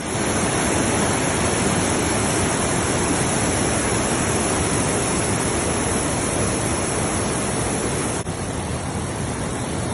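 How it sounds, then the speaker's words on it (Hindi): A small waterfall at a cottage in Muskoka pours into still water, making a steady, dense broadband rush that stays loud and unbroken throughout, with no voices. "छोटी सी फॉल है, ठहरा हुआ पानी है और आवाज़ है।"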